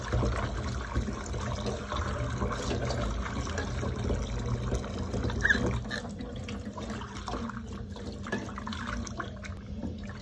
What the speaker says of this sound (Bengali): এভাবে আমি কিন্তু 4-5 বার কষলে কষলে এই পাতাগুলো খুব সুন্দরভাবে ধুয়ে নেব